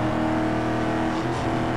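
Racing cars in Need for Speed Most Wanted, a Ford Mustang chased by a police car, with steady layered engine drone and shifting revs throughout, loud and close.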